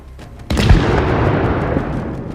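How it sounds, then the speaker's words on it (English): A HIMARS missile striking an artillery system: a sudden heavy blast with a deep low-end thump, followed by a long rumbling decay. "HIMARS launched a second missile at another artillery system."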